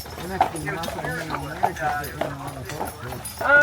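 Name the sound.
draft horse hooves clip-clopping pulling a carriage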